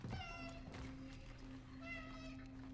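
A cat meows twice in the video game Cronos: The New Dawn, two short, clear calls at the start and near the end over a steady low ambient hum.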